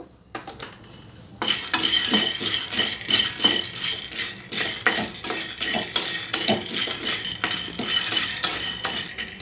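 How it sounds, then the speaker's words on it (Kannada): Peanuts roasting dry in a pan, loose kernels rattling and scraping against the metal in a steady run of close, busy clatters, with no voices. "ಮೊದಲಿಗೆ ಕಡಲೆಕಾಯಿ ಬೀಜ ಉರಿಬೇಕು"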